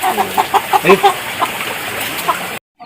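A chicken clucking in a rapid series of short, loud, close calls, the clucks bunching together and then thinning out before stopping abruptly.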